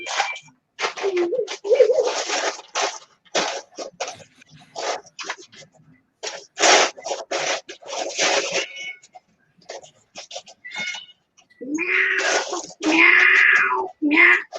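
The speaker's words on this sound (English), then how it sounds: "There's nothing I love more than hearing a cat get harassed by a 12-year-old girl." A cat being harassed by a young girl while they play together indoors, with a series of short meows and cries interrupted by pauses, ending in louder, drawn-out yowls near the close.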